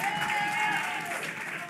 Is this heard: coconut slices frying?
no